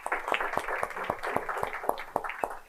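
A town event audience gives a round of applause: a steady scatter of claps, moderately faint and somewhat distant, with no talking over it.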